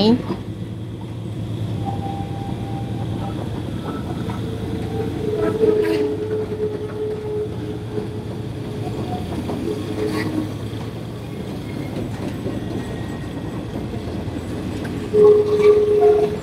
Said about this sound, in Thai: หัวรถจักรกำลังจะตามออกมา